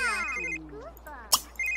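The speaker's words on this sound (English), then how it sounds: "you need to answer your phone" A phone rings in The Sims 3 video game with a bright melodic ringtone, warbling tones repeating, close and clear, with a short clicky sound partway through.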